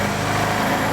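A Vespa ET4 scooter engine runs at a high, steady idle, a loud continuous buzzing drone close by.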